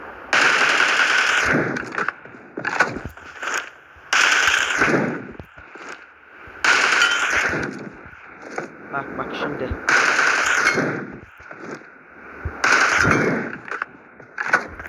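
Rapid bursts of 7.62 rifle fire in the mobile battle royale game PUBG Mobile, several loud automatic volleys separated by short pauses, with someone talking in between and over the shots.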